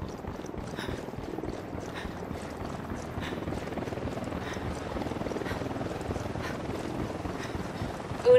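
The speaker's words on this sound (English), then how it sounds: "Chopper, hit the dirt." A helicopter in the Ghost Recon Wildlands video game drones steadily overhead as a low continuous rotor rumble, moderately faint and unbroken for the full stretch.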